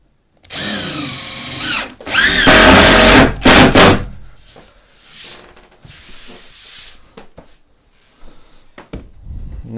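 Close, loud whine of a power drill driving screws into a wooden base in a few strong bursts, then quieter handling clatter and low rustling.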